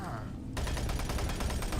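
Rifle gunfire in a zombie shooter video game, a sudden burst of rapid automatic shots that starts after a brief pause and continues loud and dense to the end.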